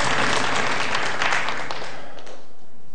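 Audience applause for an Azerbaijani singer on a television quiz show, a dense wash of clapping that fills the hall loudly before thinning and fading out over the last second.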